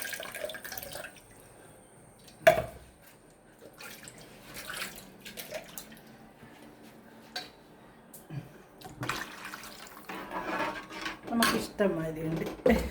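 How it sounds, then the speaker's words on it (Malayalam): Tamarind water is poured into a mixer-grinder jar, giving a soft trickle and splash with scattered clinks of the jar and utensils, quiet overall, with talking in places. "പുളിവെള്ളം ഞാൻ ഈ അരച്ച് വെച്ച ജാറിലേക്ക് ഒഴിക്കുവാണേ"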